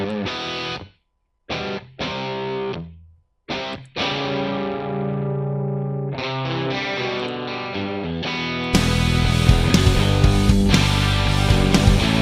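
A recorded electric guitar track, clean with a slight grit of distortion, playing sustained chords with brief stops and restarts, then a louder, fuller strummed section near the end, with no talking.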